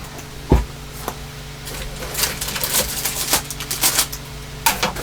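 Paper being cranked through a scrapbooking die-cut machine gives an uneven run of clattering, ratcheting rasps after one sharp knock, close and fairly loud with no talk.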